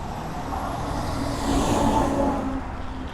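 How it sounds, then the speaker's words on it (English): Steady roar of road traffic on a superhighway heard from a bike path alongside, cars and trucks rushing past continuously, swelling a little louder midway as a vehicle passes close. "We're right by the side of the superhighway."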